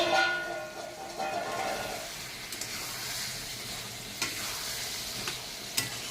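Soft, continuous sizzle of ridge gourd cooking covered in a pan without added water, a steady close hiss with a few faint clicks from the lid or utensil.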